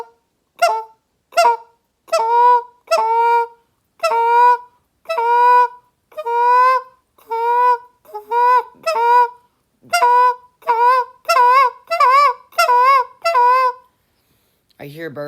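A goose call blown in a series of short, rhythmic honks, one after another, getting quicker and more clipped toward the end.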